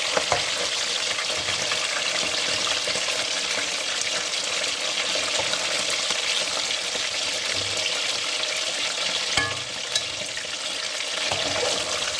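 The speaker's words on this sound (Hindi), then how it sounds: "ये देखो तेज़ आंच पे घी कितना अच्छा जो है ना वो ये फ्राई हो रहा है।" Chicken browning in ghee over high heat, a steady loud sizzle and crackle of frying that runs unbroken throughout, with a brief clink of utensils near the end and no talking.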